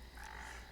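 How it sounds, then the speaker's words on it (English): A single short, faint croak from an aquatic frog battle pet in World of Warcraft sounds over a low steady hum, with no voice over it. "Stickers, which is an aquatic frog."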